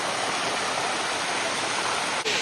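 A waterfall in Thailand roars as a loud, continuous broadband rush, heard close and alone with only a brief dip near the end.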